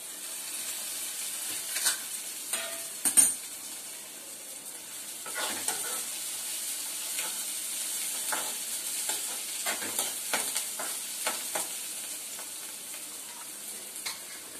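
Onion fries in a pan with a steady soft sizzle, and occasional stirring scrapes and light clinks come through the crackle; no one speaks.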